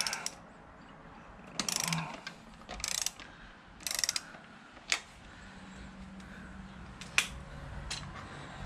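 Ratchet wrench clicking in short bursts while loosening suspension bolts on a WR250R motorcycle's rear shock, close and fairly quiet, with a few sharp metallic clicks between pauses.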